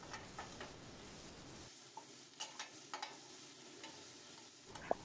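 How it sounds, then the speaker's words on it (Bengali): Spices with ginger and cumin sautéing in a pan, a faint low sizzle with sparse light scrapes and taps from stirring, quiet and close. "সমস্তটাকে আবারও খুব ভালোভাবে নেড়ে চেড়ে মশলাটা কষিয়ে দিতে হবে।"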